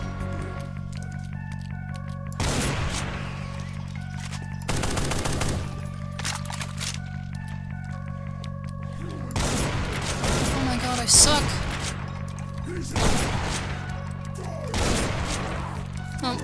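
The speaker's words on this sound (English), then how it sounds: "Who's shooting at me?" Enemies fire guns in Brutal Doom, with repeated bursts of rapid gunfire and blasts over a steady droning game soundtrack, loud and close, with a few short pauses between volleys.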